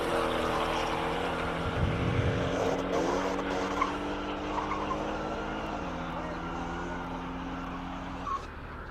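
Porsche race car at the Simola hill climb, engine note rising and shifting pitch through gears as it passes, with a brief skid around two seconds and steady roaring throughout, fairly loud and close.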